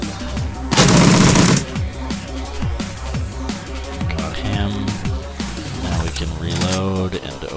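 Heavy burst of Colt gunfire in the Shadowrun Returns video game, loud and fast, packed into roughly half a second near the start, followed by game sound effects and a voice talking.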